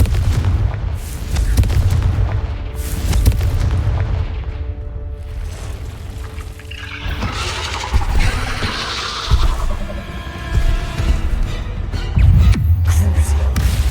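Fiery Confringo spell blasts in the Hogwarts Legacy video game, loud booming explosive bursts with crackling debris and rumbling impacts filling a dense combat soundscape, no speech.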